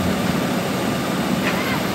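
Steady broadband roar of an IBEX Airlines cabin as the plane taxis toward a stop after landing at Itami Airport, a constant loud engine and air hiss with a faint voice underneath.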